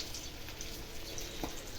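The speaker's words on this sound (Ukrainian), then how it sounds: "Смажаться мої вже відбивні." Steady crackling sizzle of meat cutlets frying in a pan, a dense hiss with scattered pops throughout.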